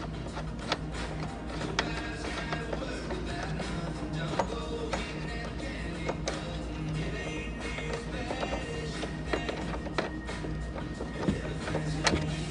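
Faint, irregular mechanical ticks and clicks come from a long bolt being turned out while removing the fan from a 5.7 HEMI engine, set against a quiet background hum.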